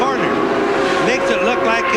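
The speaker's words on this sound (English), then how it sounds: "the cars sound just terrific with the exhaust echoing off those tall buildings" IndyCar race cars from 1994 scream past on the Australian street circuit, engine notes echoing off tall buildings, loud and continuous with rising and falling pitch sweeps while a commentator talks over them.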